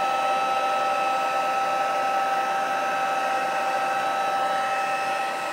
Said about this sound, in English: The heat tool has two settings. I'm going to turn it all the way up to the highest setting.